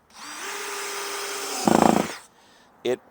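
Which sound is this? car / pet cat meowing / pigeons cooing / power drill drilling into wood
power drill drilling into wood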